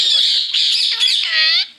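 A talking parrot lets out loud, harsh squawks up close, one nearly continuous burst of shrill calls lasting under two seconds with no other sound around it.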